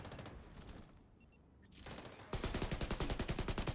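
Gunfire in The Division 2, a shooter game: scattered shots give way to a loud, rapid automatic burst that hammers on steadily to the end.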